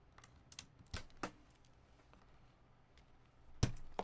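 Keystrokes on a rebuilt mechanical keyboard come as a few sharp, separate clacks with quiet gaps between them, close and fairly crisp, with one louder thock near the end.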